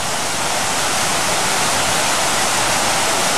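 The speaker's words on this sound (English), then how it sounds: "The fountains are kind of like firing off." Epcot fountains firing off jets of water at Walt Disney World, heard as a loud, steady, dense rushing spray with no breaks and no music.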